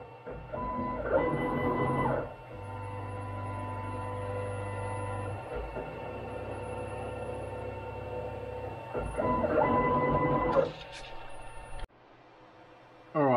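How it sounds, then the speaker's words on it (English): Tomahawk CNC machine running a probing cycle, with steady motor whine and hum punctuated by two louder stepper-motor bursts of motion near the start and end, then a short quiet pause and another burst. "we'll start a probing cycle. It'll probe 2 points 50 millimeters apart."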